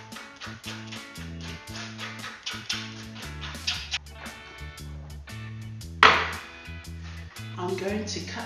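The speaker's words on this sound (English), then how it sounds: "I'm going to cut our tuna in slices." A knife slices raw tuna into thin pieces on a board, making a series of light, regular knife taps and strokes beneath steady background music.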